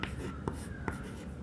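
Faint handwriting of a total mass of solution in a chemistry problem, made of quick scratchy strokes with a couple of sharper taps, heard alone.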